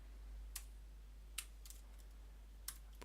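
A few sparse, quiet keystrokes on a computer keyboard while writing code, isolated clicks spaced over a faint steady hum.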